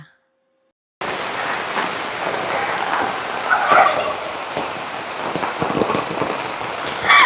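Heavy rain pours steadily around a house during flooding, a dense close wash of rainfall that starts abruptly after a second of silence and continues without a break, with a few louder bursts of drops.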